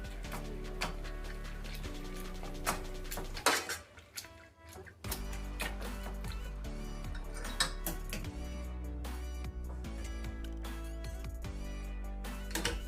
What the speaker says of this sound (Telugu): ఇప్పుడు దీన్ని మెత్తగా స్మాష్ చేసుకోవాలండి. ఇలా మొత్తం కూడా గుజ్జు గుజ్జు అవ్వాలండి.